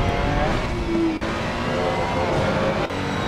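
A Ferrari race car losing control at Silverstone in Assetto Corsa Competizione, a loud continuous engine drone with tyre noise and brief dips as the car slides.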